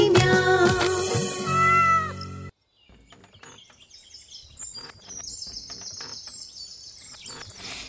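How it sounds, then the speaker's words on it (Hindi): A cat meows loudly and drawn out for about two seconds, layered into a children's nursery rhyme, then gives way to a quieter stretch of soft, chirpy calls. "बिल्ली करती म्याऊ"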